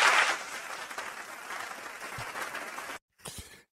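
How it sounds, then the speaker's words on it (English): A short applause sound effect plays on a music talk show: a burst of crowd clapping that fades to a steady patter, cuts off abruptly, then returns briefly. "I want to give yourself some applause, Perry."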